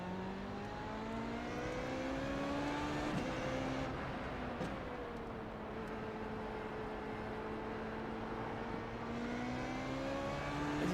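A Formula Renault 3.5 race car engine in the iRacing video game at Watkins Glen whines steadily, its pitch climbing and dropping through gear changes on a practice lap.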